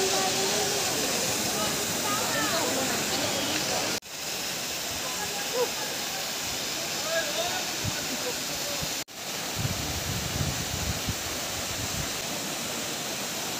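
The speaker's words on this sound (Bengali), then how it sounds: "আর অনেক উঁচু থেকে কিন্তু ঝর্ণাটা এইভাবে পড়ছে নিচের দিকে" A tall waterfall near Darjeeling plunges from a great height, its continuous broad hiss and roar filling the scene at a constant level while people talk over the rushing water.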